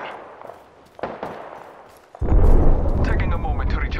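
Gunfire from the video game Apex Legends bursts in loudly partway through, a dense rattle of shots following quieter game sounds, with a character voice speaking.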